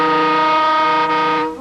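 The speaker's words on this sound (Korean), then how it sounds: "저녁 8시 열차는 제천역에 도착했습니다" A passenger train pulls into Jecheon station in the evening, its loud, sustained multi-tone horn or whistle sounding close for over a second before fading slightly, with no talking.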